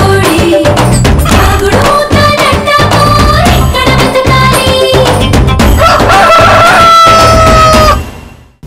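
A rooster crows repeatedly through loud, dense music that fills the whole stretch, in a film scene about a fight over a chicken on the road, before everything cuts off abruptly near the end.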